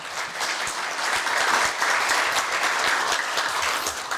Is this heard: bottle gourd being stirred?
no